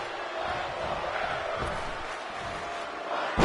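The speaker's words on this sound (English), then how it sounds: "Crowd here saying fight forever" A wrestling crowd in an arena in Long Beach, California keeps up a continuous, fairly distant roar and chant of "fight forever" as a steady wash of voices.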